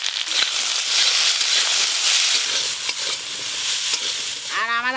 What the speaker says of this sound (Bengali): আর আমার আলু বেগুনও ভাজা হয়ে গেছে